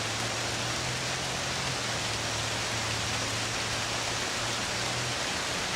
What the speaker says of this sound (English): You can hear the rain coming down, beating down on the pavement, beating down on the roof here.